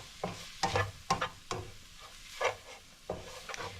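Ground meat with taco seasoning sizzles in a pan while a utensil stirs and scrapes it in irregular bursts, close up and fairly quiet, with no talking.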